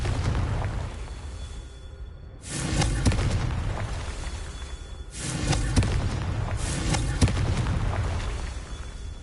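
Confringo fire spell explosions in the video game Hogwarts Legacy on PS5: three loud, heavy booming blasts, each trailing into a rumbling roar, with a steady low background rumble between them.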